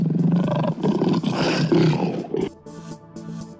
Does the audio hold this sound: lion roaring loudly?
yes